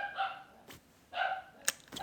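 Dogs bark indoors in two short bursts of sharp barks about a second apart, moderately close, with a brief yip between them and nobody talking.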